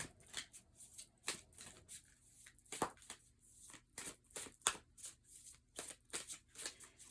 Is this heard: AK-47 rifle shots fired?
no